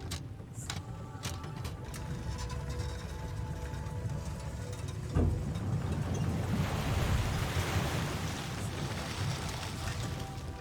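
Water sloshing and rushing as it is scooped out with a diving bell in the video game Myst IV Revelation, a steady washing surge that swells louder midway after a soft thud.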